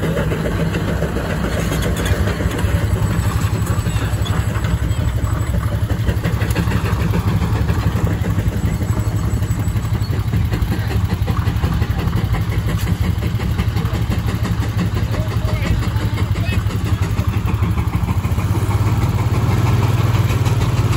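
An antique engine runs at a steam and gas show, a loud, steady low throb with a rapid regular chugging pulse that continues unbroken for the whole stretch, close by.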